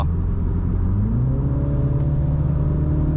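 A 2021 MINI Hatch JCW engine, 231 horsepower, roars close by, its pitch rising steadily as it accelerates, a continuous loud rumble without any talking.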